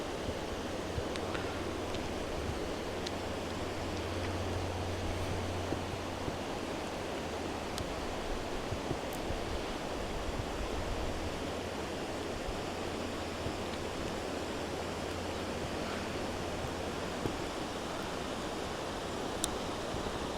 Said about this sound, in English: The sound you hear is the water flowing over here at Lost Lake in